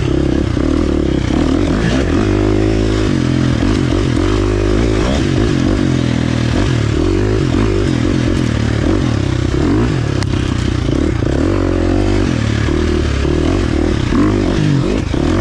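A 2023 KTM 350 XC-F four-stroke dirt bike ridden hard, its engine loud and close, revving and rising and falling continuously as it accelerates across rough ground, with clattering from the chassis and no talk.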